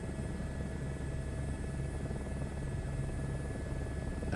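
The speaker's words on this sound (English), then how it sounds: "I will just have a go at putting the helicopter down onto this pad" Helicopter in Microsoft Flight Simulator 2024 setting down on a landing pad at Bora Bora, with a steady, loud rotor and engine drone that holds even throughout.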